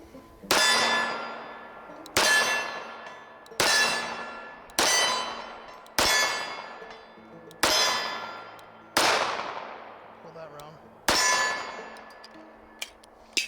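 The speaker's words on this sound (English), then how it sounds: "Shoot it single-handed here." A Cabot 1911 pistol fired single-handed: seven evenly spaced sharp reports, each ringing out with a long metallic decay, loud and clear with no voices.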